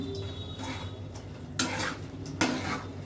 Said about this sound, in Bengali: এবার এটাকে ভালো করে নাড়িয়ে ছাড়িয়ে দেখুন এটা হয়ে যাচ্ছে।